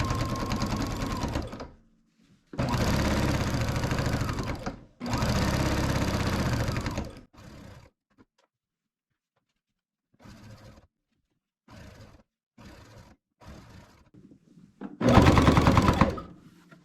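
A Baby Lock Jazz II sewing machine stitches quilt binding in several loud, rapid bursts of a few seconds each. Short stops and quieter clicks come between them, and a final burst follows.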